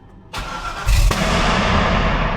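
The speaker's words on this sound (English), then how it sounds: "let's fire this thing up so I can move it" A 1000-whp Corvette ZR1 cranks and fires, its engine catching with a sharp, loud burst that settles into a heavy, steady rumble close by, with no talking.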